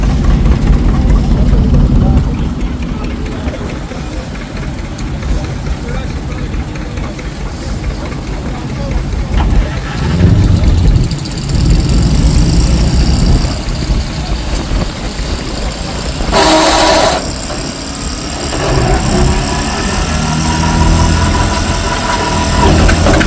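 An antique 820 tractor at an outdoor tractor drive and show cranks over and settles into a loud, steady, low-pitched diesel idle, with people talking nearby and other engine noise in the background.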